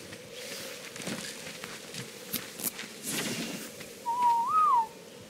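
A person whistles a short rising-and-falling tone near the end, alone over a low ambient wind-like hum in a wintry survival game setting.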